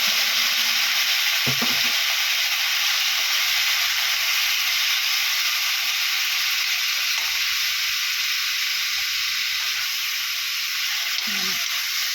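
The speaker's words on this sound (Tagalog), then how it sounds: "Igisa lang muna natin siya hanggang sa matanggal o magpalit siya ng kulay." Marinated pork ribs sizzle and fry steadily in a hot pan, a close, continuous hiss with a few brief stirring knocks and faint background sounds.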